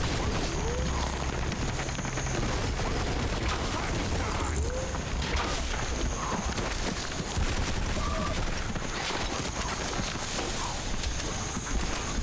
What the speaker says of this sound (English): Dual wield SMGs